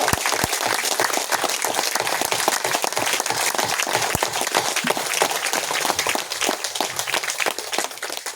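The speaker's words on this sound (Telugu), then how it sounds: "కొట్టండి చప్పట్లు పంచభూతాలకి గట్టిగా" An audience at a spiritual teaching session in Vijayawada claps loudly, producing dense, sustained applause that holds steady throughout with no talking.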